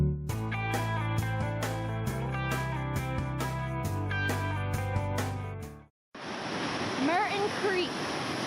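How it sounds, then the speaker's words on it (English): Roaring Merton Creek on the High Sierra Trail, a loud broadband rush of churning water that rises after a brief gap, following several seconds of music. "Merton Creek."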